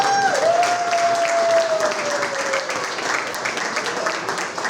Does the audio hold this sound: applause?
yes